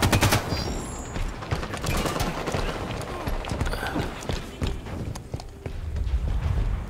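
Rapid gunfire in Halo 5: Guardians, bursts of sharp repeated shots crackling through a busy combat mix, with a voice talking faintly underneath.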